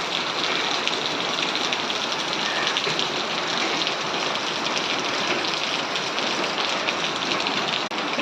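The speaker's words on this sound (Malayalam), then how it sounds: "പക്ഷെ ഇല്ല, ഞങ്ങൾക്കുണ്ട്, കോട്ടയംകാർക്ക് നല്ല മഴയാണ്" Steady rain falls in Kottayam, a constant close hiss of drops on surfaces that never lets up, even and loud from start to finish.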